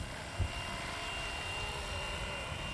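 A giant radio-controlled helicopter flies nearby with a steady, loud rotor and engine drone, holding evenly through the whole stretch, with a brief low thump near the start.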